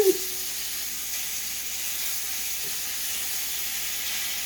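A steak sizzling on a George Foreman grill, a steady faint hiss throughout with a small clack at the start.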